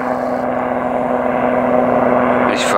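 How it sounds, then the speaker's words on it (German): A helicopter passes overhead near the Baltic coast between Grömitz and Kellenhusen, a loud, steady rotor drone with a rapid low thumping that persists throughout. "Was man hier auch immer wieder hat, sind die ganzen Hubschrauber."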